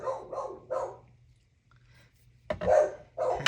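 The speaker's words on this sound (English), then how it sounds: "I've got two dogs, and it's only the one that's barking right now" A dog barks indoors in a craft room, several short barks in quick succession, a pause, then a louder burst of barks over a low steady hum.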